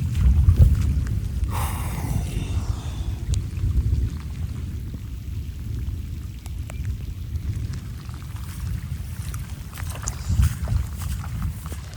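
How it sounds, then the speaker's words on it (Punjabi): Heavy rain pours in a dense, continuous hiss while low thunder rumbles and rolls underneath, swelling at the start and again near the end, with no voices. "6-7 ਵਜੇ ਜੀ ਸ਼ੁਰੂ ਹੈ ਬਾਰਿਸ਼"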